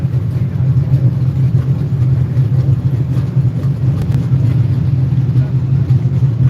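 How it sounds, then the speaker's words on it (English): Drag racing cars sit at the starting line at Maple Grove Raceway, their engines idling with a loud, deep, continuous rumble that pulses slightly throughout. "McGahey and Derek Kramer lining up on the starting line next"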